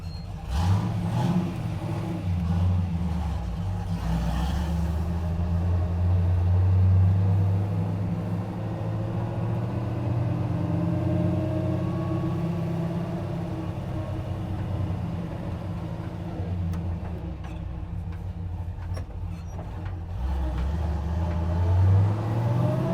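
Steady low rumble inside the cab of a truck with a cammed 5.3L V8 and FlowMaster Pro Outlaw mufflers on a road test, the drone rising and falling as the engine revs and the vehicle accelerates.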